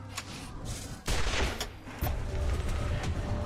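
Gunfire in the video game Wasteland 2, a couple of loud sudden volleys with booming low thumps and rattling bursts, close and dense, with no talking.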